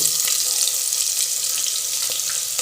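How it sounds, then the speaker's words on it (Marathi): Two medium onions, sliced lengthwise, frying in hot oil with crackled cumin and mustard seeds and a pinch of asafoetida: a steady, close sizzle with light popping, and no talk. "हे दोन मीडियम साईज कांदे उभे चिरून घेतलेले आहेत ते घालूया"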